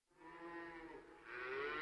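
A cow gives a long, loud, close moo that swells and rises in pitch toward the end, with no voices heard.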